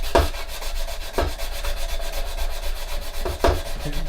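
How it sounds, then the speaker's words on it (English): Sandpaper rubs back and forth along a seam on a Revell 1/32 plastic He111 model kit, soft close scratchy strokes with a few sharper scrapes at irregular intervals. "we can just keep going along, just sanding this in a little bit"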